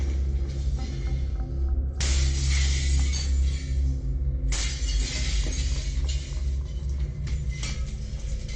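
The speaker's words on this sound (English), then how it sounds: "Then came the unmistakable sound of glass shattering." Window glass shattering as an intruder smashes it with a piece of firewood, two loud, sharp crashes a few seconds apart, each trailing off into tinkling fragments over a low steady hum.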